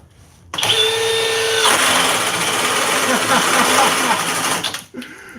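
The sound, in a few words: Milwaukee or Flex cordless drill running at speed 6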